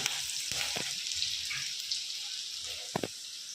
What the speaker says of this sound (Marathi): आता हे मी चांगला लालसर कांदा होऊन मी भाजणार आहे